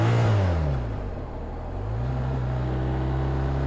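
A BMW R1250RT motorcycle engine drops in revs and rises again through a gear change on the road, a steady deep drone with wind rush and no talking.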